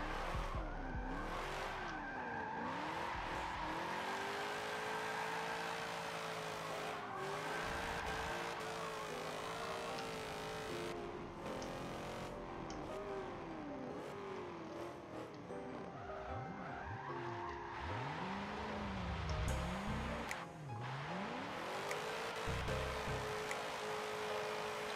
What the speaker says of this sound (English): Wow, a car that'll do a standing burnout.